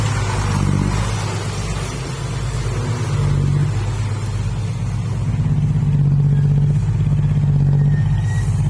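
A heavy dump truck engine rumbles steadily at idle nearby, with slight rises in revs and no other sounds.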